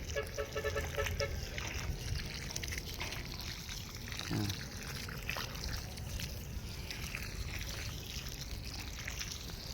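A garden hose sprays water onto ampalaya plants in a farm plot, a continuous, fairly close splashing and pattering of water on leaves and soil with no talk.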